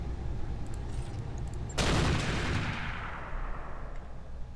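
Mech weapons fire in the Roguetech mod of BattleTech: one sudden loud blast of gunfire or artillery bursts out after a quiet stretch, then rumbles and fades slowly into a long decaying tail.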